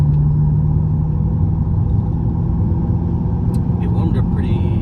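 700HP BMW M6 Gran Coupe pulling hard in second gear on a warm day, a loud steady engine rumble filling the whole stretch, with people talking over it inside the car.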